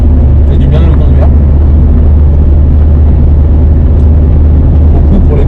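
Steady low engine drone and road rumble from a Suzuki Baleno 1.9 TD diesel car cruising, heard from inside the cabin, constant and fairly quiet, with occasional talk over it.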